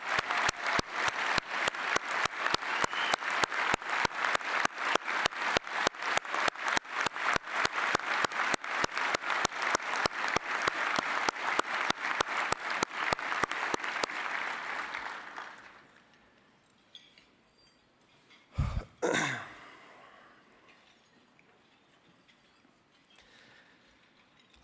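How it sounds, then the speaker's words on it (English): A banquet audience at a golf scholarship fund dinner gives a strong, steady round of applause for about fifteen seconds. The clapping then fades into near silence, broken by a brief bump of noise close by. "would you all please join me in giving a round of applause to Mark and Kelly Belinsky"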